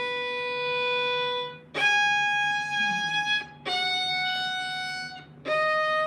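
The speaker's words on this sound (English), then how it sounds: "We have to be able to make the crunch before we can soften the crunch." A violin is bowed in long strokes with a crunchy, gritty attack at the start of each stroke, four sustained notes played close and clear with short breaks between them and no talk.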